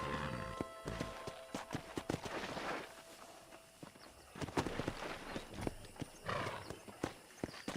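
Horse hooves clip-clop at a riding pace in the Red Dead Redemption video game, with rhythmic thuds, an occasional whinny and faint game ambience beneath.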